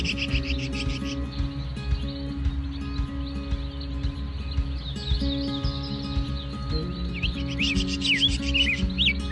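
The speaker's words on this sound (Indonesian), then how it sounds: "kicau burung yang saling bersautan" Several birds chirp and trill back and forth at a moderate distance beside Lake Linow in Sulawesi, over a steady low rumble of background noise.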